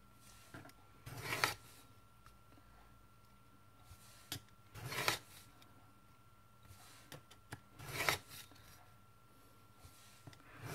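Paper being creased into folds at 5 mm intervals for a Memorydex shelf, soft close scraping and pressing strokes recurring every few seconds against a quiet room.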